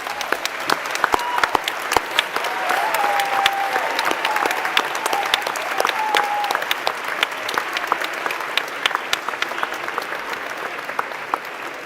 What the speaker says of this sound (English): Let's give them the applause they so richly deserve.